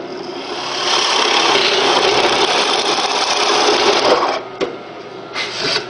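A power drill whirs steadily as it bores a hole through a piece of wood for model railroad benchwork for several seconds, then slows and stops, followed by a couple of short bursts.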